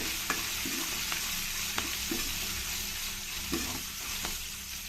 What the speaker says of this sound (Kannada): ಒಂದು ನಿಮಿಷ ಇದನ್ನು ಸ್ವಲ್ಪ ಫ್ರೈ ಮಾಡ್ಕೊಳ್ಬೇಕು